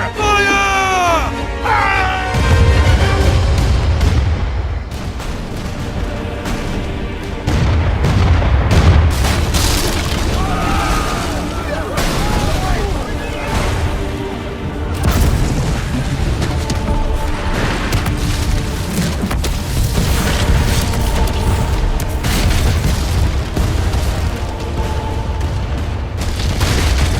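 Ship cannons fire in Assassin's Creed IV: Black Flag, repeated heavy booms and rumbling blasts through a noisy sea battle, with shouting voices and orchestral music throughout.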